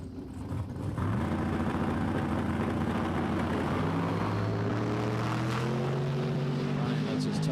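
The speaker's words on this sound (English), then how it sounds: "Brian lets his tires rip." A drag racing car does a burnout at Empire Dragway after wetting its tires, a loud, sustained engine roar that swells in the first second, then holds with its pitch climbing steadily.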